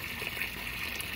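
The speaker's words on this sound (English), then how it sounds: "So I'm just waiting for the water to fill up in this tub" Water pours steadily into a tub used to flush a Yamaha outboard engine, a constant close rushing gush with no pauses and no talking.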